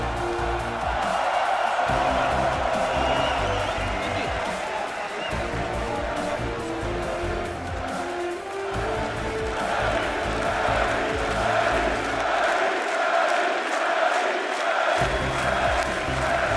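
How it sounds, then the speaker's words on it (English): A hall crowd at a League of Legends spring playoff third-place game 5 between H2K and Fnatic cheers and chants continuously in a standing ovation, loud and sustained beneath a commentator talking throughout. "There was a standing ovation in the hall. Everyone chanting his name."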